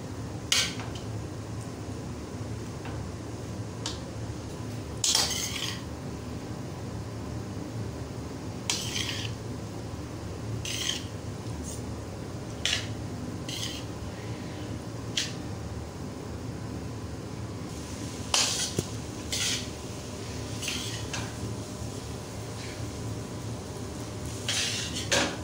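Spaghetti is dropped into a pan and stirred. Sparse, sharp metallic clanks of a utensil striking the pan ring out every few seconds over a low, steady kitchen hum.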